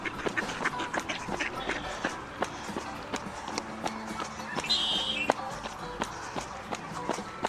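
Ducks at a duck pond quack intermittently among scattered tapping and shuffling steps, fairly near, with constant outdoor background noise.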